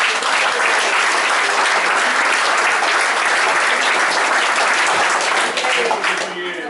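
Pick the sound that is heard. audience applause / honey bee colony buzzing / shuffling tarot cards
audience applause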